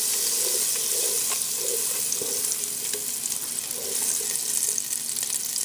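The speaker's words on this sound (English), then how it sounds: "Okay, it's melting pretty fast." Butter melting in a hot pan gives a steady, close hiss and crackle of sizzling that continues without a break, with faint spatters and no talking.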